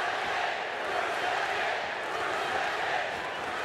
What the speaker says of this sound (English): We also hear a familiar chant from the crowd.